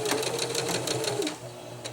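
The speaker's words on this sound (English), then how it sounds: "I am going to now sew the remainder of the bug net closed" A sewing machine runs in a quick, steady burst as it stitches bug netting closed, the rapid needle chatter close and clear, then slowing and stopping near the end.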